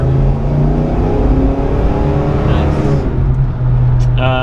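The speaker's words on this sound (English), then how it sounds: "Nice. Chevy 350 V8." A 1972 Chevrolet Monte Carlo with a Chevy 350 V8 and Turbo Hydramatic transmission accelerates, its loud, deep engine rising steadily in pitch from inside the car, with a voice speaking near the end.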